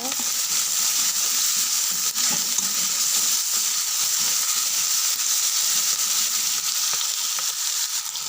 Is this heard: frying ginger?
yes